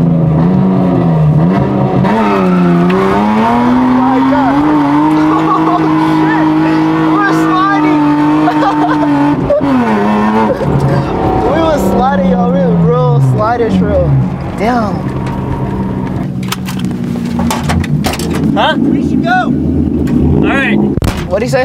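Loud BMW E36 engines rev and whine while drifting, pitch rising and falling through sustained high-revving runs, with bursts of tire noise and voices nearby.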